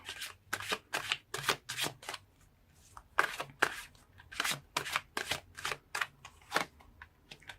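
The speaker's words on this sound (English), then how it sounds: "So let's pull more cards and see." Tarot cards riffled and shuffled in a run of quick bursts, each a crisp papery flutter with short gaps between, close and fairly loud.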